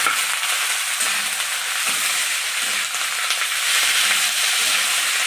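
Tundi, a gourd, fries in hot oil in a pan with crushed ginger and garlic paste, making a loud, steady sizzle and hiss that runs unbroken from start to end with no voices.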